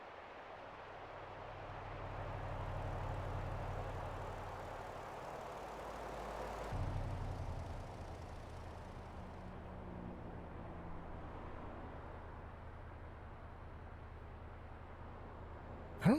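A biplane in American Truck Simulator drones steadily with a propeller engine hum, swelling then dropping away abruptly, while a low rumble continues underneath.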